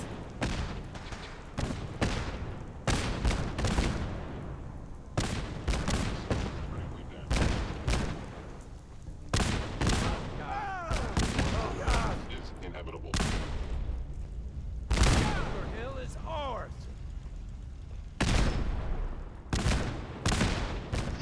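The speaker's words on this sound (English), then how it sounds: "hear Gauss rifles" Gauss rifle gunfire in Fallout 4 at Bunker Hill: repeated sharp, loud shots in irregular bursts across the whole stretch, mixed with other battle noise and talking voices.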